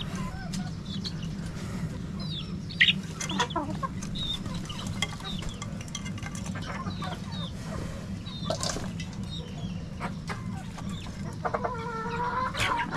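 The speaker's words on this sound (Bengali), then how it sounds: "এই যে মুরগি" Chickens in a rooftop coop in Kushtia cluck and squawk near and at mid distance, with scattered calls over a steady low background hum and no talking.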